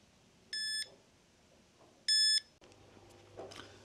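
Fatshark FPV goggles sound a low-battery alarm: two separate bursts of rapid, loud electronic beeping, each lasting about a third of a second, with quiet gaps around them and faint background noise afterward.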